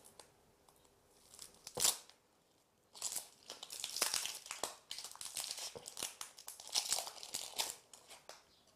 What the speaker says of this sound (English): cut the top off and peel all the dry skin away